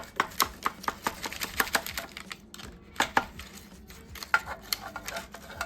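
A knife slicing into a vegan, gluten-free no-turkey roast with a crispy outside and sticky middle, producing a rapid series of crisp, close ticking cuts and taps against a board with no talking.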